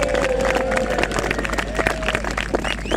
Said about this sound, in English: So let's give them all a great big caldicot cheer.